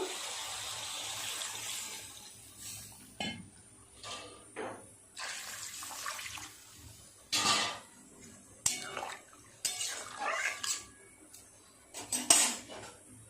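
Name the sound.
pot lid being removed from a cooking pot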